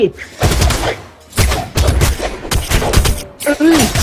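Explosions in the Brawlhalla fighting game: a rapid series of loud, punchy blasts in quick succession, with game sound effects and a voice talking over parts of it.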